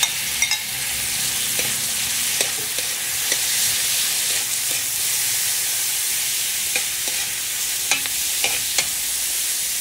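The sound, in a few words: sautéing meat with garlic and onion for pansit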